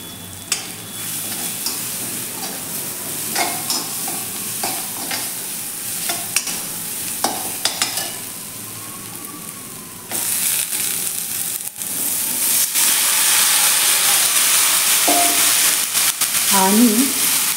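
Ridge gourd pieces stir-fried in a pan of spiced masala, with repeated scraping stirs and a soft sizzle that grows louder and steadier in the second half, close and without talk.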